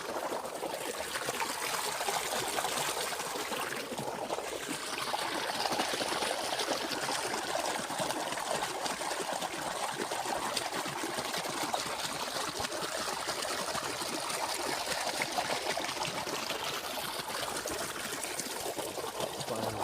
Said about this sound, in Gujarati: જોઈ શકો છો તમે પાણી ચાલુ છે વાળવાનું